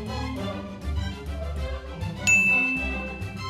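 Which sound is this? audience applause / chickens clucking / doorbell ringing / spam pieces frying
doorbell ringing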